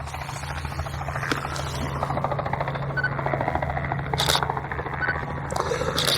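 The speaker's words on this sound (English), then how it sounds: "Helicopters hovering." Helicopter hovering in the distance at an airfield, a steady low throbbing rotor drone running throughout, moderately loud beneath outdoor ambience with no talk.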